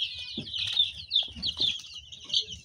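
Several young chicks, one with an injured leg, cheep in a continuous high-pitched chorus close by, with faint low rustling and shuffling underneath.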